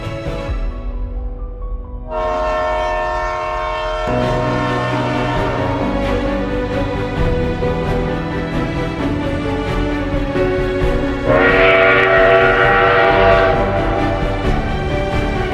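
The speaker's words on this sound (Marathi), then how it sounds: "सुंदर अशी ही माथेरानची टॉय ट्रेन आता आलेली आहे" The Matheran hill station toy train arrives in foggy weather, its horn sounding loud and close as a long, sustained multi-tone blast that grows brighter and stronger toward the end over a steady rumble.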